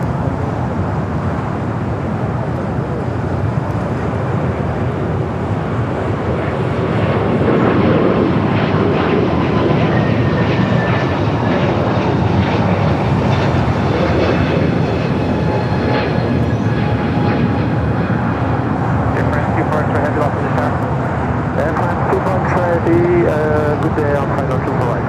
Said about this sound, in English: That'll be the Dreamliner coming in from London Heathrow, flight 935, a 787